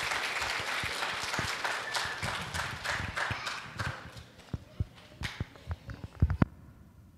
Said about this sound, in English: let's give our K-3 classes a round of applause